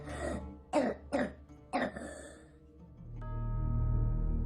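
A sick girl coughs and clears her throat in a few harsh separate bursts, close and distinct, before a low rumbling background swells in.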